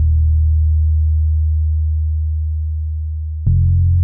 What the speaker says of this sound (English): playing a very slight, sort of mostly sine wave subby bass line